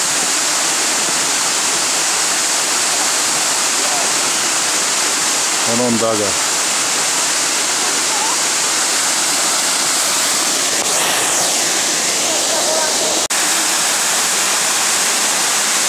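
A small waterfall with little water rushes steadily down a rocky channel, a loud, constant, close hiss of flowing water, with a brief voice and a faint passing sound partway through.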